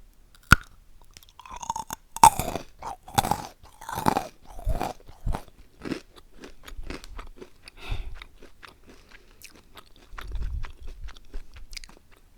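Close-up chewing of crunchy honeycomb candy, with a sharp initial bite followed by a long series of brittle crunches and cracks in uneven bursts, loud and alone in a quiet room.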